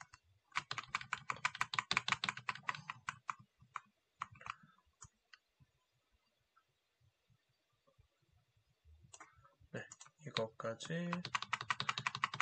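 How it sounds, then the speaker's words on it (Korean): Typing on a computer keyboard, rapid clusters of close clicking keystrokes in two bursts separated by a quiet pause, with brief speech between them. "이렇게 만들면은 타이핑하는 것도 끝났습니다"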